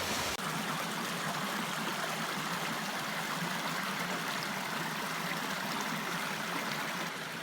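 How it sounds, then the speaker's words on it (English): Water rushes steadily over terraced falls in a canyon at Zion's Subway, a continuous broadband roar of flowing and splashing water that stays loud and close throughout, with no voices. "I'm seeing a lot of terraced falls, and it's really pretty"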